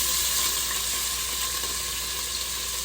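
Chunks of chicken breast browning in olive oil in a pan, a continuous close sizzle and crackle with no talking.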